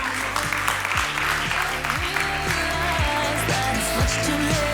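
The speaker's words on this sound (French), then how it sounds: "Bravo, on peut les applaudir encore une fois." An audience applauds graduates at a school ceremony with sustained, dense clapping through the whole stretch, while a low, rhythmic music bed runs underneath.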